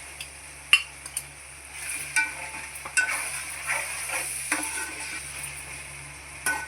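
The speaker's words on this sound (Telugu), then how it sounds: "రొయ్యలు వేసుకున్న తర్వాత బాగా కలుపుకోవాలండి" Prawns for prawn biryani are stirred in a pan after garlic paste has cooked down, with repeated scraping, clinking utensil strokes over a soft continuous sizzle and no talking.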